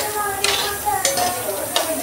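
Dal pakoras fry in a pan, a soft steady sizzle with a few light metallic scrapes and clinks of a utensil, close and fairly loud.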